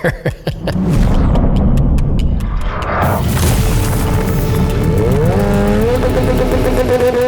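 A very light carbon-fiber race car with a high RPM limit revs loudly and continuously, its engine pitch climbing in rising harmonic sweeps after a few sharp bangs at the start.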